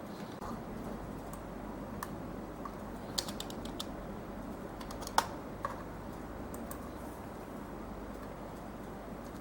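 Typing a roll number on a computer keyboard, scattered light key clicks over a low steady room hum, a few louder taps, no talking.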